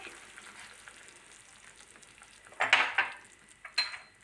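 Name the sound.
stirring tomato sauce with thyme in a pan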